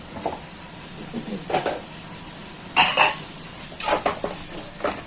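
Green chillies sizzle in hot oil in a pan for sambar, a steady thin hiss with occasional clinks and scrapes of a spoon stirring against the vessel.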